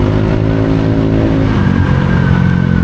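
Motorcycle engine idling and lightly revving close by, a steady loud mechanical drone with layered harmonics that swells slightly toward the end, with no talking.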